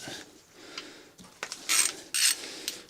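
Nuts and washers come off studs on a seized BMW engine with scattered metallic clicks and scrapes, ending in two louder bursts of grinding metal, close by and quiet.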